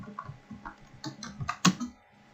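Typing a command on a computer keyboard, a short run of about eight quick, close key clicks in an uneven rhythm, ending with a slightly louder keystroke, and no talking.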